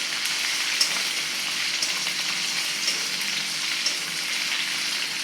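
Garlic and green chilies fry in hot oil with a steady, even sizzle and faint crackles, heard alone without any talking.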